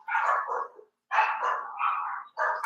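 Neighbours' dogs barking outdoors, three loud, rough bursts of barking separated by short pauses, fairly close and with no voices over them.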